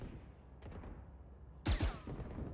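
Two sharp, loud gunshots from a video game gun crack out in quick succession near the end, standing above a low, steady background rumble.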